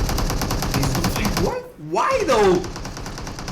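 Rapid automatic gunfire in a competitive PUBG Mobile match rattles loudly and evenly throughout, with a short gap midway, while a caster talks over it.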